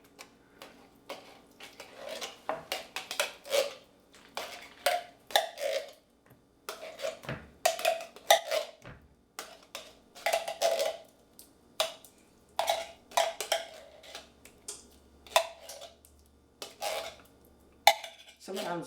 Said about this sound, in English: Sometimes getting it out of the can takes a while.